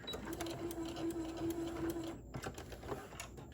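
A home sewing machine stitches a small rainbow mini tote bag in one steady whirring run of about two seconds, then stops, followed by light handling clicks and rustles.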